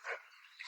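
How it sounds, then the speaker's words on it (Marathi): A dog barks faintly from some distance in two short bursts, one at the start and one at the end, with quiet in between. "कुत्र बुंका लागला आम्हाला."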